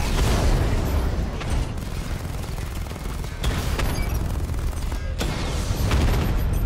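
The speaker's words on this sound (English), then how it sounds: "Batman's taking out a drone!" Drones being destroyed in the video game Batman: Arkham Knight, loud repeated gunfire-like bursts, booms and mechanical clatter filling the scene with sharp impacts at intervals.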